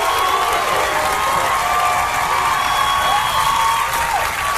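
A studio audience at a comedy talk show cheers and applauds loudly, a steady, dense mix of clapping, whooping and shouting that holds at full volume throughout.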